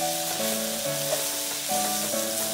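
Onions fry in a pan with a steady, close sizzle and crackle that runs without pause, while faint clinks and a quiet whine sound in the background.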